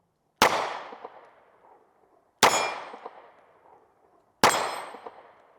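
Three sharp, ringing metallic clangs about two seconds apart as bullets strike steel AR500 dueling tree targets, each hit ringing out and fading, with no talk.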